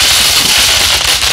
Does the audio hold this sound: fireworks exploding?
yes